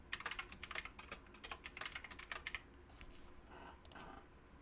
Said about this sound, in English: And you'll hear my clicky keyboard.